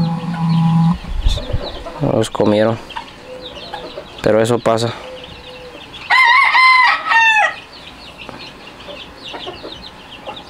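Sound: chickens, hens

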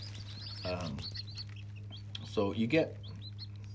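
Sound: baby chicks chirping in a radiant heat brooder

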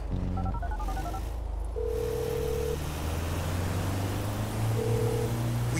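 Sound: cell phone dialing in Grand Theft Auto 5 video game

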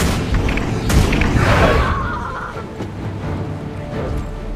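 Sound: trebuchet destroyed in Guild Wars 2 video game

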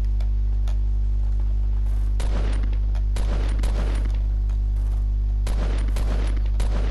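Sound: gunfire in a video game

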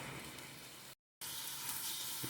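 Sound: taro root pieces frying in oil

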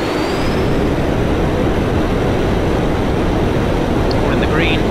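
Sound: fast jet engine firing up for takeoff at Coningsby

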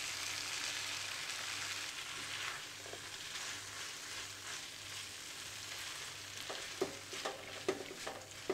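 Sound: stirring cheddar cheese into chicken sandwich filling in pan

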